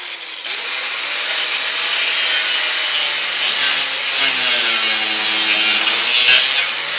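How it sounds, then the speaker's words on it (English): A grinder fitted with a new metal cutting wheel slices through aluminum, giving a loud, steady abrasive whine with a shifting tone as the cut goes on, and no talk over it. "This is a new metal cutting wheel,"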